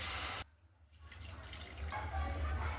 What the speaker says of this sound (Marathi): आता याच्यामध्ये गरम पाणी घालायचं.